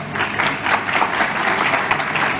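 An audience at the Formula Student 2023 business plan presentation finals applauds, a steady wash of many hands clapping together for a couple of seconds.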